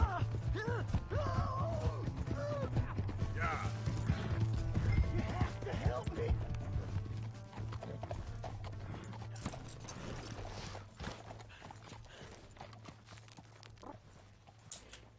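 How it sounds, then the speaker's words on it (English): Steady hoof clip-clop of a horse walking in the video game Red Dead Redemption 2, running under continuous talk and background music, fading somewhat in the second half. "Why is the horse stopping?"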